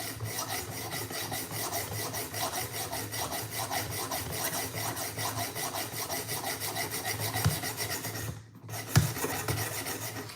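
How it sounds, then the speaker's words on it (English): A Benchmade knife blade being reprofiled on a guided sharpening rig, giving a steady rasping, rubbing stroke repeated rhythmically and close up, with a couple of sharper knocks near the end. "So we're gonna reprofile the blade."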